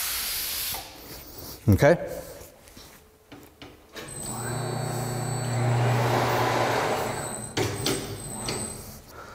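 The pneumatic robo arm of a Maxx tire changer moves in with a sustained air hiss and mechanical slide, preceded by clunks in a workshop, while a voice briefly speaks.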